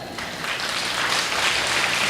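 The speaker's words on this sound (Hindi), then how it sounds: "आशीर्वाद दे दीजिए इसका मतलब है ताली बजानी है" Dense, steady audience applause fills a poetry recital hall, a continuous close wash of many hands clapping with no pauses.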